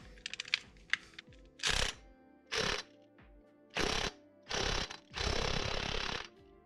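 A wrench zaps off the 22 mm timing belt sprocket bolt on a 4G69 engine. Light clicks are followed by four or five loud, buzzing mechanical bursts, close up, with the last one held longest.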